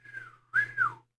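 Two short whistled phrases from patients in a video game, a gliding tone followed by a brighter two-part whistle, fairly close and clear with a low hum underneath.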